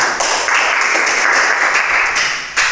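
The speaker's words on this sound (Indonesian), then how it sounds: "Tepuk tangan untuk Radi." A classroom group claps for a student in a short burst of dense, steady applause that continues at a fairly even level and ends with a slight rise.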